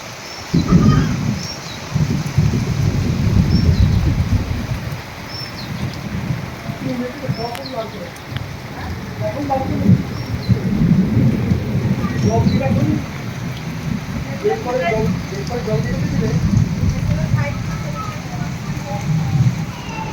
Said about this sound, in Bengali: বৃষ্টি থামার কোনো কিন্তু সম্ভাবনা নেই, আর সেই সাথে সাথে কিন্তু ব্যাপক পরিমাণে বজ্রপাত হচ্ছে